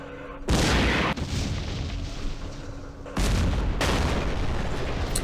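Mortar positions are shelled in the Campaign Series Middle East war game: two heavy booming blasts, each spreading into a long, loud, rolling rumble that fills the scene.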